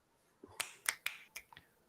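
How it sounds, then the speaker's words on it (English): Several sharp finger snaps ring out alone at uneven intervals, close and crisp, about six clicks spread over two seconds with near silence between them. "I tried snapping my fingers."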